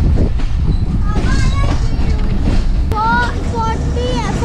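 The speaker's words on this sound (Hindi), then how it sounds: "बड़ा इंजन है माशाल्लाह से, 4000 हॉर्स पावर का इंजन है ये" A 4000-horsepower locomotive hauls the Thal Express passenger train between Kundian and Taxila, a loud rumbling run with rail squeals and screeches rising over it, while people talk nearby.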